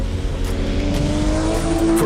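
Porsche 935/78 Moby Dick race car with a 3.2-liter boxer engine, droning loud and steady at close range with a rising engine tone toward the end.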